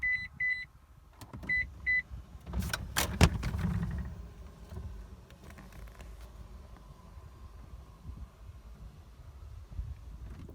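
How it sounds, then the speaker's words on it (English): Toyota Prado rear seats folding down electrically at the press of buttons: a few short beeps, then a brief loud motorized whir and clunk up close, fading to a low steady hum with faint rustling. "For the rear seats, you can use these buttons to fold them down."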